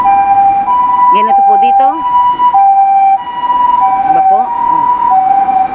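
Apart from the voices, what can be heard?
ambulance siren passing on a street in Japan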